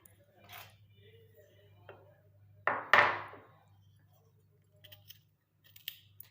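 Knife cutting dried amla (gooseberry) into small pieces after the seeds are removed: a couple of sharp chops and taps on a board, sparse and close, with quiet gaps between.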